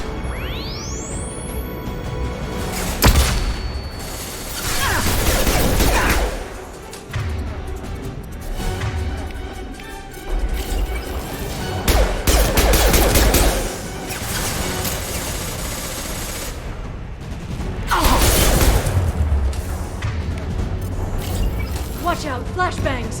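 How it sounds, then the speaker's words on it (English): Mass Effect 2 combat with flashbangs and gunfire: sharp bursts, crashes and booms come in waves over a dense battle din, while voices shout warnings throughout. "Watch out, flashbangs!"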